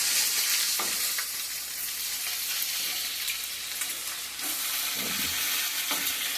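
Bacon fries in a pan with a dense, continuous sizzle and hiss holding steady throughout, broken by occasional faint pops and clinks.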